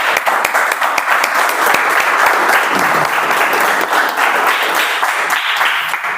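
Meeting participants break into sustained applause, many hands clapping together at steady loudness for several seconds with no one speaking over it.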